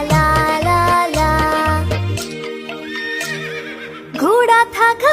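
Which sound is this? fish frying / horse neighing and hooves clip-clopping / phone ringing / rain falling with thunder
horse neighing and hooves clip-clopping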